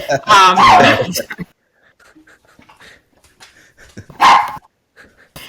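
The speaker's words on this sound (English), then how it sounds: "my dog's going to bark." A pet dog barks loudly and close by at home, one burst of rapid barks at the start and another single bark near the end, with quiet panting and room noise in the gap.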